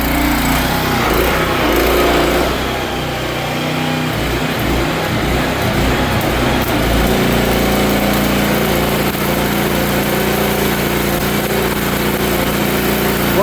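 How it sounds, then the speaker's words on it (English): A Bulldog 550 gas-engine welding machine runs at a jobsite, its small engine droning loud and steady without a break, with shifting rough noise from the site. "He's running with that Bulldog 550 right there, gas welder."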